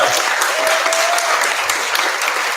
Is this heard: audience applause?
yes